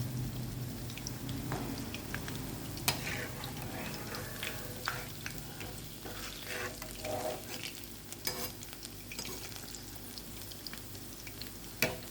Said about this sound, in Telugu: ఇవి సిమ్మ మీద కాల్చుకుంటున్నాను మంచిగా లోపల ఉడికిపోతాయి